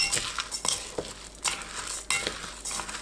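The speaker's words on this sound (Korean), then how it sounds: "전기 압력밥솥에 찹쌀, 콩, 파, 밥 넣고 섞어줍니다." Glutinous rice, beans, green onion and cooked rice stirred together inside an electric pressure cooker pot, giving scraping, clinking and crinkly rustles in irregular bursts, close and moderately quiet with no talking.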